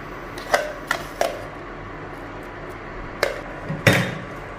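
Almond paste is spooned into hot milk in a cooking pan, giving a handful of sharp metallic clinks and taps of a spoon against the pan, spaced irregularly over a quiet background.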